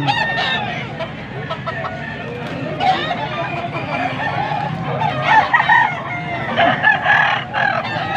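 Bull stag rooster crowing at a cockfight gamefowl sale in Pampanga, repeated loud crows and clucks among other birds, with crowd chatter around.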